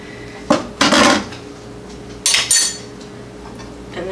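Corn is tipped into a saucepan from a bowl in the kitchen, with a few sharp metallic clatters and clanks of the bowl against the pan, in two bursts separated by quiet.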